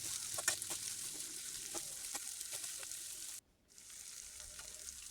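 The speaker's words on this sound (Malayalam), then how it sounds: "ഈ തക്കാളി സവാളയെല്ലാം നന്നായിട്ട് വഴന്ന് വരട്ടെ." Tomatoes and onions sauté in a pan for a Kerala squid roast, giving a steady close sizzle with scattered stirring clicks and a brief dip to near silence partway through.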